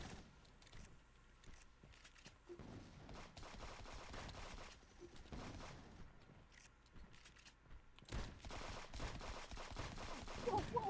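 Rapid bursts of game gunfire crackle through a multiplayer shooter match, dense and continuous with sharper volleys near the end, mixed with other game noise.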